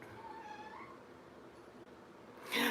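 A house cat gives a faint, drawn-out meow indoors over low background noise, followed by a brief sharp rustling clatter near the end.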